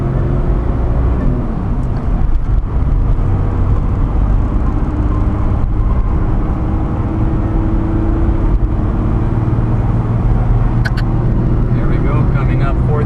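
A 29-year-old Toyota Land Cruiser HJ61V with a 4.0L 12HT turbo diesel and manual gearbox accelerates through the gears, its engine droning loud and steady up close, with someone talking over it.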